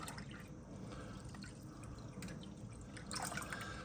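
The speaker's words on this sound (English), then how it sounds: "we will fill up the rest of this reservoir with water" Water pouring steadily into the reservoir of a Keurig coffee maker during descaling, a continuous soft trickle and splash close by, with no talking.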